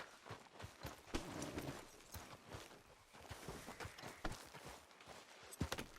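Horse hooves clip-clop in Red Dead Redemption 2, a steady, quiet walking rhythm of sharp hoof strikes with faint ambient background and no talk.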